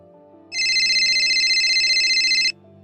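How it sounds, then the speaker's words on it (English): A mobile phone ringtone sounds loud and close for about two seconds, a steady electronic ringing pattern over quiet low background noise, starting and stopping abruptly. "Is that your phone? No, it's yours."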